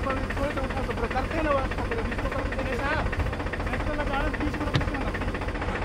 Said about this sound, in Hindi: अब यहाँ पर ट्रैक्टर के हेल्प से निकाला जा रहा है